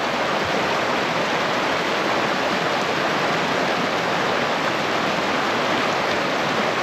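Little River in Olympic National Park's rainforest rushes past in a steady, loud, close wash of flowing water, with no voices over it.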